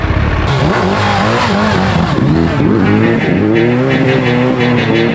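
A Suzuki Hayabusa motorcycle ridden off-road, its engine loud and close, revving with shifting pitch throughout.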